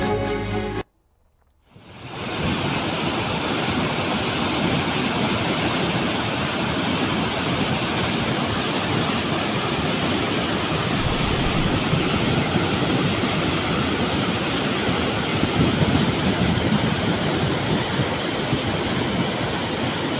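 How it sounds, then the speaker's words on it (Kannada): Floodwater from an Ujani Dam release rushes down the Bhima River in a loud, constant roar. It begins after a brief silent gap and then continues unbroken and close. "ಇದು ಉಜಿನಿ ಜಲಾಶಯದಿಂದ ನೀರು ಬಿಟ್ಟಂತಹ ಕಾರಣಕ್ಕಾಗಿ ಪ್ರಮುಖವಾಗಿ ಕಲಬುರಗಿಯಲ್ಲಿ ಬಹಳ ಕಡೆ ಪ್ರವಾಹದ ಪರಿಸ್ಥಿತಿ ತಲೆದೋರಿದೆ"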